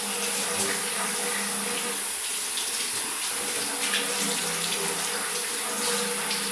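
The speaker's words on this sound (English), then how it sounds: "This water is now warm water. So you do a hand rinse." Warm tap water runs steadily into a sink during a hand rinse, a continuous close, loud rushing stream with no talk over it.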